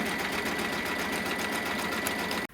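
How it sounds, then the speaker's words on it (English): A sewing machine runs steadily, stitching quilting and tack-downs in a continuous close whirring hum that stops abruptly just before the end. "It finished stitching the quilting"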